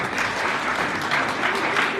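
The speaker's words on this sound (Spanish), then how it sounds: "Un aplauso, por favor." Audience applause at a church gathering, steady dense clapping filling the room for about two seconds, moderately loud with no pause.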